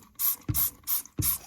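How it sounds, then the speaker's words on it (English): Water spray bursts from a hand sprayer misting fig cuttings rooting in sawdust medium in seed starter trays, four short hissing pumps in a steady rhythm, close and fairly loud with no talking. "I spray them"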